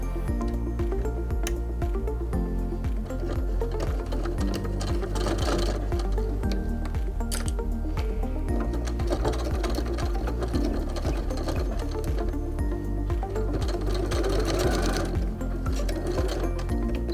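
Close, continuous whirring of a sewing machine as it stitches a men's toiletry bag made of Santaflex, holding a steady pace through the whole stretch without any voices.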